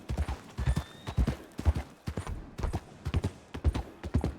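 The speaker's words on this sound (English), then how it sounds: "I swear I heard a stampede." Horses gallop in a stampede within a Wild West roleplay video game, a rapid, repeated clip-clop of many hooves at moderate distance, pounding in quick bursts across the whole moment with no talking over it.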